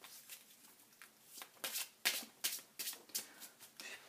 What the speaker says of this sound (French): je vais mélanger mes cartes